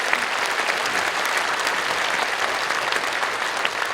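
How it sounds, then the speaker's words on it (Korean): A large church congregation at a 50th-anniversary dedication service applauds in thanks, a loud, dense and steady burst of clapping that fills the whole stretch. "우리 모든 영광을 하나님께 돌리면서 감사의 박수"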